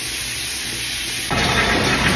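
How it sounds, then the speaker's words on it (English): A household tap runs steadily as a constant loud hiss, growing fuller and louder partway through, with no voices over it. "You can hear my water running in the background."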